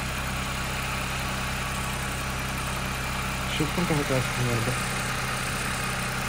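A Suzuki Jimny engine idles steadily in Yakutia, a constant close low drone, while someone speaks briefly over it in the second half.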